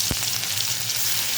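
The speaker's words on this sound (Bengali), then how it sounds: "ভেজে নেবো হালকা করে" Chepa shutki, dried fish mixed with turmeric, frying in hot oil, a steady close sizzle with a brief louder pop near the start.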